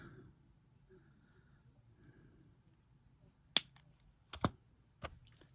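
A crafting piece is cut, heard as a few sharp, close snips, one single and then a quick pair and another, after a stretch of near silence with faint handling noise.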